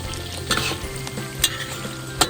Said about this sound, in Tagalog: you need to stir your wings to avoid sticking each other